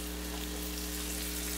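Chicken breasts pounded thin sizzle in hot butter and oil in a pan, a steady, soft crackling hiss with a faint low hum beneath and no talk.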